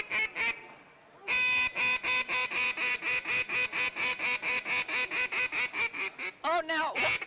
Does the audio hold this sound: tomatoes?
no